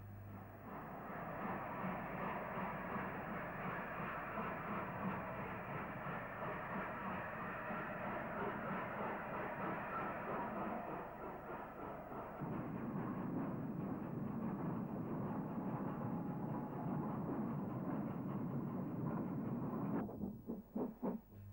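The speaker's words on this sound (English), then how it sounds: "Beautiful study of King's Cross-based A4 number 60030, Golden Fleece, as it leaves Grantham." King's Cross-based LNER A4 steam locomotive No. 60030 Golden Fleece pulls out of Grantham with a steady, loud, dense rumble and roar that shifts in tone midway, then breaks up near the end.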